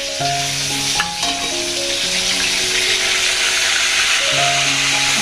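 Ginger and green chilli paste sautés in a pan with a steady, even sizzle that lasts the whole stretch, while soft tonal background music plays under it.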